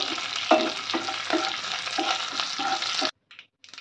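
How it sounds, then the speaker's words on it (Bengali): Whole cumin seeds and a few curry leaves crackle in hot oil for Marwari-style poha, a steady broadband sizzle with soft stirring knocks for about three seconds before cutting to near silence with two brief faint bursts. "হাফ চামচ দিয়ে দিচ্ছি গোটা জিরে, মানে সাদা জিরে। দিয়ে দিচ্ছি কটা কারি পাতা। ফোড়নটা আনিয়ে নেব ভালো করে।"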